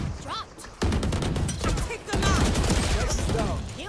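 Rapid gunfire in Valorant, loud and close, breaking into two sustained bursts after a brief quieter opening, with players' voices talking over the shooting.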